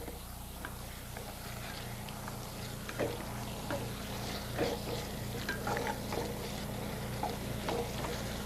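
A sauce for salmon over pasta cooking in a pan as a bay leaf is stirred in: continuous sizzling with scraping and stirring clatter, a low steady hum beneath, and no one speaking.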